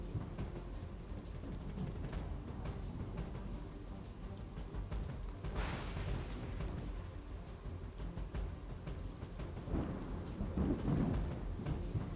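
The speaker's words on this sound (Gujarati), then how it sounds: "અત્યારે પણ વરસાદ જોવા મળી રહ્યો છે" Heavy rain pours steadily over the city of Surat in Gujarat, with a constant dense hiss of rain and low rolls of thunder, including a stronger rumble midway and another near the end.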